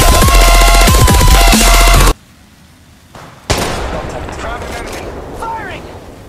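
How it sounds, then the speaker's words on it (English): Dense rapid gunfire in the mobile shooter Apex Legends Mobile blasts loud and close, cuts to near silence, then resumes with a sharp shot and further scattered firing and game effects. "They're shooting at me!"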